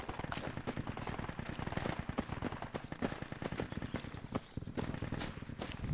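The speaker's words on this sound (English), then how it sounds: "it's enemy AR shooting" Enemy automatic rifle fire in the military shooter Project Reality, Sahel map: dense, rapid bursts of shots crackling continuously, fairly close and loud, with no talk over it.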